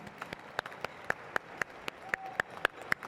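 Applause from an audience at a Declaration of Independence reading ceremony: sharp, fairly sparse claps in a quick steady rhythm, heard at moderate distance with some voice in the background.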